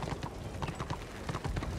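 An enslaved pack horse in the Warhammer Online video game clip-clops along with steady, evenly spaced hoofbeats at a walking rhythm, moderately loud and near, with no clear talking over them.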